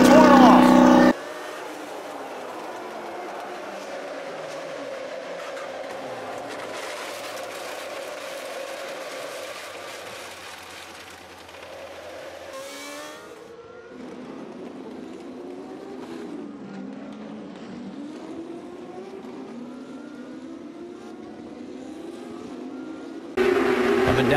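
Race car engines roar past at speed on a track, a sustained high-pitched whine with rising and falling pitch as cars pass, with commentary voices underneath.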